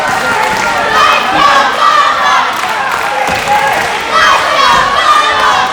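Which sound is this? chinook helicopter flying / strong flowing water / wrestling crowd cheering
wrestling crowd cheering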